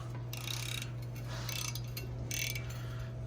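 A hand ratchet turns a bolt on a 2000–2013 Chevy Tahoe in short bursts of rapid clicking, three quick runs of pawl ticks close up over a low steady hum.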